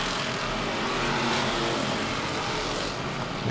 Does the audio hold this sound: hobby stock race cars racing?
yes